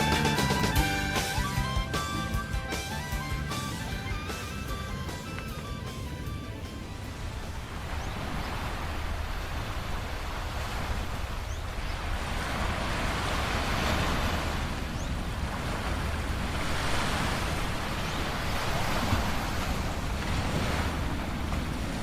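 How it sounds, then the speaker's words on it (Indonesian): Ocean waves roll in and break on the shore at night near Alas Purwo, East Java, in a steady roar, with surges rising every few seconds and wind gusting across the microphone. "suara debur ombak juga menemani kami tidur sepanjang malam"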